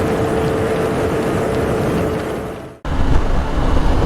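Several motorcycles riding past on a road, a steady broad engine roar that drops away briefly, then returns as more bikes approach nearby.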